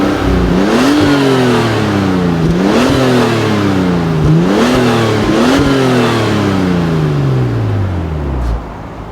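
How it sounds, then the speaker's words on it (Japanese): A Nissan Skyline ER34 25GT-X sedan with a turbocharged RB25DET engine and road-legal exhaust, revved repeatedly at standstill: loud, close blips rising and falling several times in a row, then settling back to idle. "じゃあ次は、マフラーサウンドいってみましょうか。"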